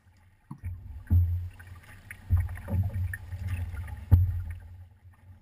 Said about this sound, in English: You'll notice that when I'm not prying or drawing, I'm paddling forwards.